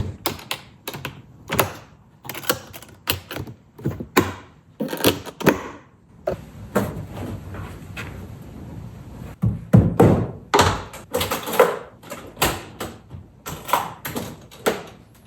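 The latches and lid of a ZuHuoGe acoustic guitar hard case are shut up close, giving a run of sharp clicks, snaps and hollow thunks spread over several seconds with brief pauses between them.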